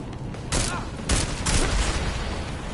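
Gunfire in the video game Deus Ex: three loud, close bursts of shots about half a second apart, each a sharp broadband crack that trails off, over a constant low rumbling game background.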